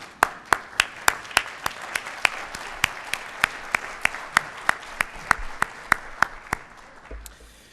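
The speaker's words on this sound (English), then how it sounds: "Let's give them a round of applause." At a city State of the City event, an audience claps in a slow, even rhythm, with sharp distinct beats about three per second standing out over softer scattered clapping, then stopping near the end.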